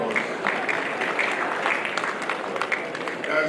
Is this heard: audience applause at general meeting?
yes